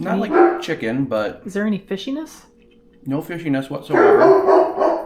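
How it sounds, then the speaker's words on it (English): Great Pyrenees dogs bark in the background while people talk over them at close range, the barks mixed in and partly hidden under the conversation. "Sorry about the dogs."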